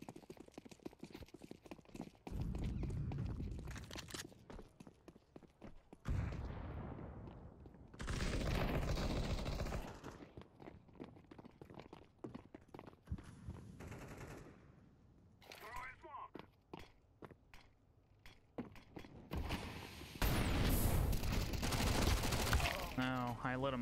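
Counter Strike 2 gunfire comes in sharp, rapid bursts and single shots, separated by quieter gaps with footsteps and scattered in-game noise, at fairly low level overall.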